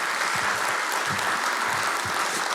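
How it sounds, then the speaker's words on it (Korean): A church congregation applauds during a Sunday service, with steady clapping filling the whole stretch fairly loud and alone, broad and continuous like a large room full of hands. "박수 한번 쳐드려야 되죠?"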